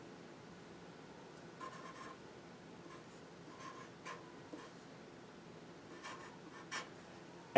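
A stylus writing on the screen of a Prodigi handheld device, giving faint scratchy strokes in short separate bursts over a low steady hiss, close and quiet, with no voices.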